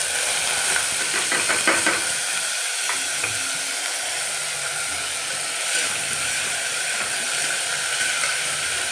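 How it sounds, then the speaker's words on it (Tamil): Shallots sautéing in a pan with curry leaves for a chicken gravy, a loud continuous steamy hiss and sizzle with a few stirring clatters early on, close and steady without speech. "சின்ன வெங்காயம் நல்லா வதக்கணும்."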